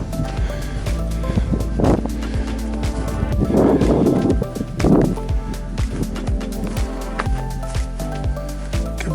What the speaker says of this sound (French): Il commence à avoir du vent.